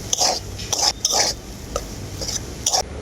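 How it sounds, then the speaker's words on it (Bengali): A spiced potato filling with chaat masala and garam masala is stirred in a pan for egg chops, with repeated scraping strokes of a spoon against the metal in an uneven rhythm, close and moderately loud. "আবারও আলুটাকে আমি খুব ভালো করে মিশিয়ে নেব চাট মশলা আর গরম মশলা"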